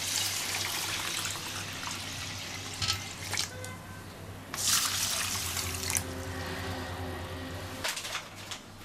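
Water running from a tap into a container to soak white and black rice, a steady close splashing flow with a few brief louder gushes and clinks, no talk.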